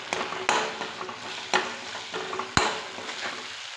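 Schezwan chutney frying in oil for Schezwan veg fried rice gives a loud, continuous sizzle, broken by sharp scraping stirs of a spatula in the pan.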